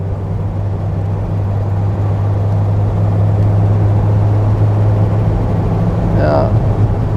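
A 1940 Mercedes 770 armoured open touring car, nearly five tonnes, cruising along with a steady low engine rumble and road drone that stays constant throughout; a brief whistle-like tone rises near the end.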